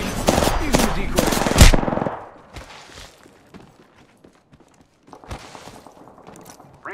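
Rapid bursts of video game shootout gunfire crackle loudly for about two seconds, then give way to quieter scattered footsteps and movement, with a brief renewed clatter of shots near the end.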